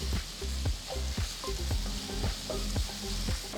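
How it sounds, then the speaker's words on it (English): Onions, slit green chillies and finely chopped ginger sauté in a pan, giving a dense, steady sizzle up close with a low rumbling hum underneath and light stirring clicks throughout, no talking. "Add finely chopped ginger and saute the onions for about 2 to 3 minutes"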